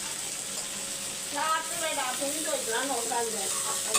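A single tomato sautéing in leftover frying oil for vada curry, a steady close hiss of sizzling with a voice talking partway through.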